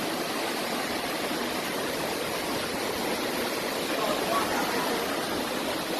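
Floodwater rushing during tropical storm flooding in Bull Bay, St Andrew, Jamaica makes a loud, continuous broadband roar like a fast stream, steady throughout and close by.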